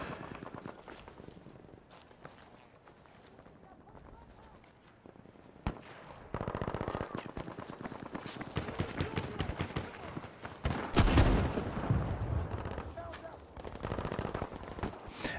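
Gunfire from Battlefield V during a Conquest match on Al Marj Encampment: rapid bursts and single shots, getting busier and louder in the second half, mixed with footsteps and game ambience, with talk over it.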